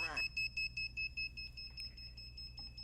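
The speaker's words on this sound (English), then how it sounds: "if it spots any movement within 4-meter range of the device, meaning 12 feet, 360 degrees, the alarm's going to fire and send you a notification" A radar motion-detector security alarm gives a rapid series of sharp electronic beeps in a steady pulsing rhythm that fades to fainter chirps, heard up close in a quiet room.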